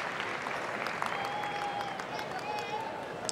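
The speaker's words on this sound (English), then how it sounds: "This sellout crowd letting it all soak in, and at times hoping their voice is heard to the one they like." A sellout crowd at a dog show claps in steady applause, a broad wash of hand claps at moderate distance with a commentator talking over it.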